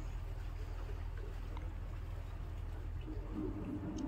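A boat ride on the water in Venice, with a steady low engine rumble and water wash close by and faint voices in the background.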